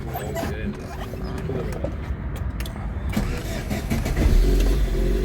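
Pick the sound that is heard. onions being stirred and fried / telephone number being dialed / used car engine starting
used car engine starting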